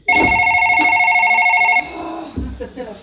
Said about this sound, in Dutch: Oh, de telefoon dan nog.